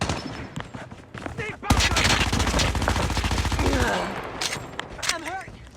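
An MX9 is hip-fired in a shooter video game: a long, loud automatic burst fires close up for about two seconds, with scattered single shots and game effects before and after.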